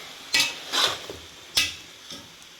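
Carrots roasting in ghee in a pan for gajar halwa, stirred with a spoon in four or five distinct scraping strokes that knock against the metal, under a soft, faint sizzle.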